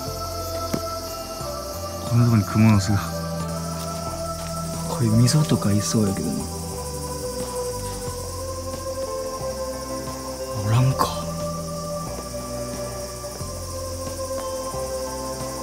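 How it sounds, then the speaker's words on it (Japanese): Cicadas sing at night near outdoor lights during a summer stag beetle hunt, a steady, faint insect drone running under a man's occasional nearby speech. "めっちゃ夜なのにセミ鳴いてますね。"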